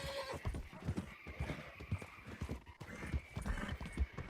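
A stolen horse in Red Dead Redemption 2 trots with rhythmic clip-clopping hooves, broken by a whinny, all fairly close and steady with no talk.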